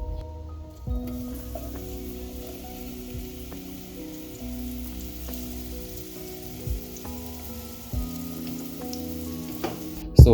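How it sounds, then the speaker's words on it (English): Diced arrowroots frying in hot cooking oil in a pan, a steady crackling sizzle with occasional pops and a louder burst at the end, no talking. "Once my cooking oil is nice and hot,"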